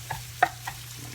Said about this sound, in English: Just going to chop it up, go a couple ways.